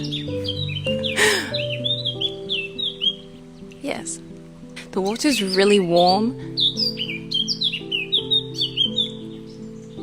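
An outdoor bird by warm water lets out loud, harsh squawks and calls between chirps, nearby and overlapping with someone talking.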